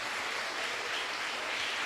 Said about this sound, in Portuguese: Você consegue aplaudir a esse Deus?